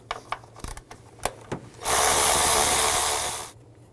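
Ratchet and socket clicks loosening 10mm bolts on the intake of a 2000–06 GMC Yukon, a few short sharp clicks followed by a steady, loud ratcheting whir lasting under two seconds, close up and with no talking.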